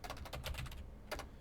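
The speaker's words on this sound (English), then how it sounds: "What is going on with my typing today?" Quick bursts of keystrokes on a computer keyboard, close and faint, in two clusters of rapid clicking separated by a short pause.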